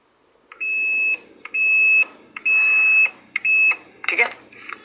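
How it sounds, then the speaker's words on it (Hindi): A multimeter set to continuity buzzes as a phone's power button is pressed, giving four steady, loud beeps of about half a second each, then a short broken burst at the end. "जैसे प्रेस करेंगे तो यहाँ पर बजर बजने लगेगा कुछ इस तरीके से"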